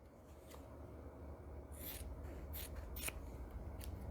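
Scissors cut through quilting fabric for a scallop quilt in a short run of quiet, close snips and rasping slides, with a few sharper strokes standing out near the end.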